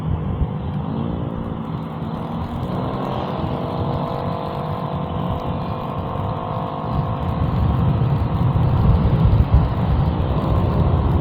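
A Rusi scooter cruises at about 50 km/h, its small engine giving a steady droning hum with wind rumble close by, and the pitch and loudness climb a little toward the end.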